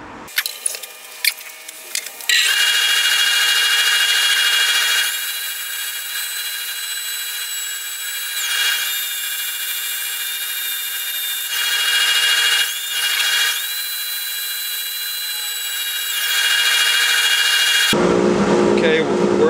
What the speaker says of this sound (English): we'll get some sanding going